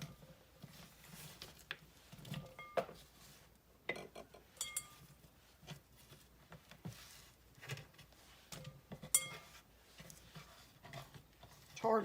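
Thin cucumber slices scraped off a cutting board into a bowl, heard as scattered soft scrapes and light clinks of utensil on board and bowl, fairly quiet with pauses between them.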